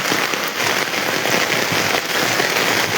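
Heavy rain pours in a dense, steady roar with crackling, spattering hits on nearby surfaces, loud and constant with no voices.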